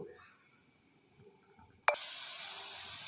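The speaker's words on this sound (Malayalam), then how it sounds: "ഇഞ്ചി ഇട്ടു" Ginger for Malayalam inji curry drops into a hot pan and bursts into a sudden loud sizzle, following a quiet background, then a steady hissing fry continues.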